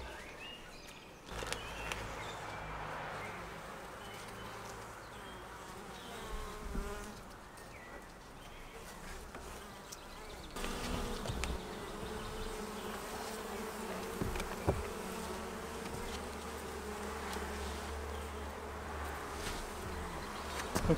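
Dense, continuous buzzing of many honeybees swarming close around, droning steadily with occasional louder passes and faint bumps.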